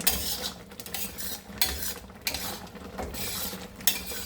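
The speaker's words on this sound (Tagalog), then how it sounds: "So, kailangan ko na i-stir na para mabilis siya mag-dry." Homemade bagoong cooking down in a pan as its oil comes out, stirred with a utensil that scrapes and clanks against the metal in close irregular strokes over a low sizzle, no talk.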